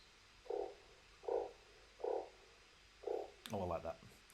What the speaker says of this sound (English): oh, a croaking.